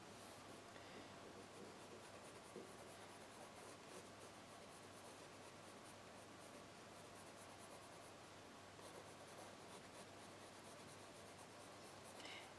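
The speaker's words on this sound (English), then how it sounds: "use a light touch of your pencil." A pencil sketching lightly across watercolor paper gives a soft, continuous scratchy rasp of steady strokes, close and quiet, with no talking.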